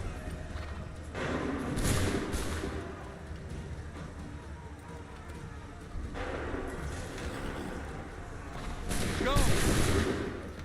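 Musket volleys and cannon fire in an Assassin's Creed III battle, several booming bursts spread across the clip over a constant rumbling din, with shouted commands in between.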